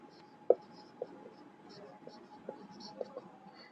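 A pen scratches faintly on paper in short irregular strokes and taps while a person talks softly over it during a math lesson.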